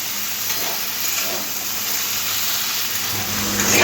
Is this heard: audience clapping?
no